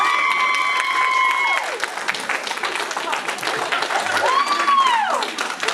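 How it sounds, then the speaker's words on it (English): Wedding guests clap and cheer for the newly announced couple at a reception, with applause mixed with shouts and cheers, while an announcer's amplified voice and music carry over the crowd. "how about a round of applause for Mr. and Mrs."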